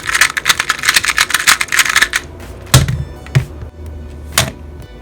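MGC 2x2 magnetic puzzle cube being turned, rapid close clicking bursts of plastic snapping into place, then a few separate sharp clicks.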